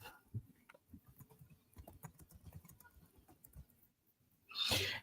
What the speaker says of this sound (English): And as Miguelina is typing out